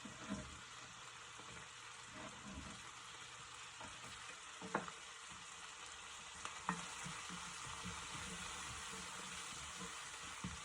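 Onion and garlic frying for adobong gulay, a Filipino vegetable adobo, with a steady broad sizzle throughout and a few sharp clinks of a spoon against the pan at intervals.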